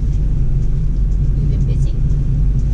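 BMW X4 M40i rolling slowly downhill on an off-road course at an M Festival event in Canada, its hill-descent brakes holding the speed; a steady low engine and tire rumble runs throughout beneath a person talking.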